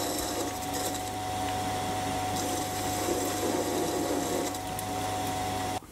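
A metal lathe cuts steel for a CNC dividing head mounting bracket with a freshly sharpened tool, giving a steady, close grinding whir with a low motor hum throughout that stops abruptly at the end.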